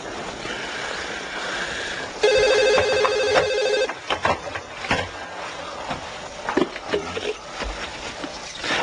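A telephone rings indoors with a bright electronic bell tone in a steady burst, followed by clattering handling sounds as a horse trained to answer it picks up the phone.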